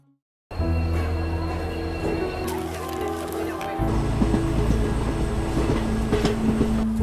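An Indian general-class passenger train runs on rails near Ramanathapuram, a loud, steady rumble with droning wheel tones and rattling carriages that grows heavier partway through, with faint voices in the background.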